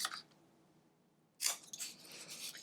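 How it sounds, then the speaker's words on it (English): Scissors snip through a paper coffee pouch craft project, a brief sharp cut followed by a quick run of close crisp snipping and rustling, alone in a quiet room. "just for the sake of the video, I'm going to use my scissors."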